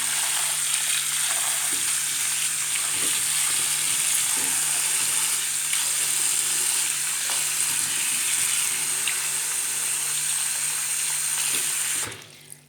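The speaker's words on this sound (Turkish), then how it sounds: "Şöyle çeşmemizi açalım." A kitchen tap runs in a steady, loud rush of water for about twelve seconds before it is shut off and the sound drops away.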